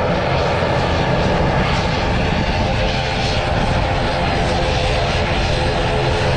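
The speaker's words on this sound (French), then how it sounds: "Il y a un avion qui arrive." A steady, loud drone of an airplane engine as a plane arrives at an island airport in the British Virgin Islands, continuous and close, with people talking beneath it.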